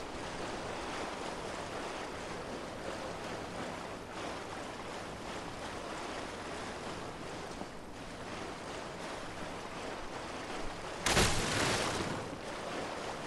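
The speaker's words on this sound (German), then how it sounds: "es haucht einfach nur so ein kleines bisschen in Wind und mehr ist nicht zu hören" Wind gusts steadily through an outdoor area in the video game Lies of P, a constant airy rush with a brief louder burst near the end and no voices.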